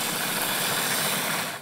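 A steady, buzzing boat engine runs at an even pitch, close and continuous, with a broad hissy roar that fades slightly at the end.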